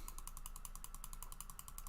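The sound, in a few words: online wheel of names spinning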